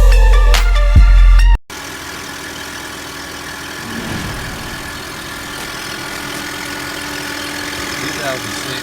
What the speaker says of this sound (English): Toyota Highlander alternator whine